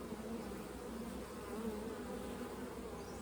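Honey bee colony, one treated with an antiviral, buzzing steadily at close range, a dense continuous drone with no voices.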